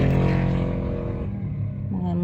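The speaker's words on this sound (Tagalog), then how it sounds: "Mga motor diri mga agi" Motorcycles on a rural road pass close by, a loud engine drone that fades as it moves away, with a fainter engine sound following near the end.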